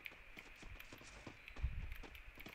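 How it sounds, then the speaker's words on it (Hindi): Footsteps in a multiplayer video game, a quick rhythmic patter of steps with a heavier thud partway through, moderately loud over a low game ambience. "अरे बंदे भाई पैरों की आवाज आ रही है मेरे को"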